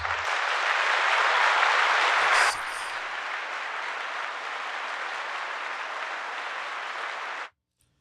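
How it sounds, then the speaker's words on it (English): A thick, even wash of applause on a podcast, loud and unbroken for about seven seconds, dipping slightly partway through and then cutting off abruptly to silence. "Round of applause."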